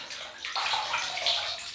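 Warm water splashes close by as a face is wetted for a traditional wet shave, a short burst of sloshing and trickling with no talk.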